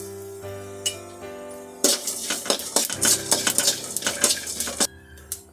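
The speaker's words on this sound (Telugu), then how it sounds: "ఇప్పుడు ఎండుమిరపకాయ, ఇదంతా కొంచెం బాగా ఫ్రై కావాలా." Dried red chillies, coriander seeds and sesame seeds dry roasted in a pan for a peanut rice dish, heard as a run of close metallic scraping and clinking of a spoon stirring against the pan, steady and busy after a quieter start.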